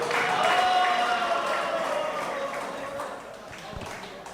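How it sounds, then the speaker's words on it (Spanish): Strong audience applause welcoming a presenter at a workshop session, a full, continuous patter of many hands that slowly eases off over several seconds, with some murmuring underneath. "le damos la bienvenida con un fuerte aplauso"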